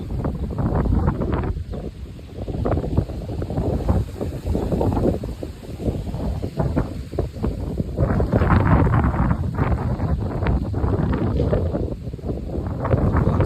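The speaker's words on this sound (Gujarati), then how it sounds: "કેટલો બધો પવન ઉડે જો." Strong wind ahead of a rainstorm buffets the microphone in loud, continuous low rumbling gusts that rise and fall throughout, with no other sounds standing out.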